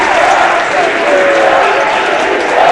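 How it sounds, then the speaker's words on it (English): A basketball crowd at a men's college game roars steadily and loudly, a dense wash of cheering and clapping that holds for a few seconds without letting up. "the Falcons have got this crowd on their feet and loud."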